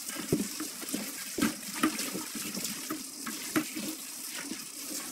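Water is poured over pork in a cooking pot for sinigang, a soft, steady splashing and trickling with a few louder gurgles, fairly faint and heard alone.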